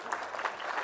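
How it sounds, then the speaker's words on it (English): A room full of people at a talk gives a short burst of applause, brief scattered clapping heard fairly close. "Everyone just give these a round of applause, pretty please."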